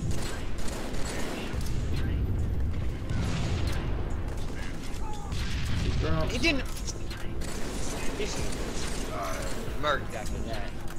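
Battle rifle fire and mechanical weapon clatter from Halo 3 multiplayer on the Construct map, rapid bursts and clicks running steadily under frequent excited voice chat.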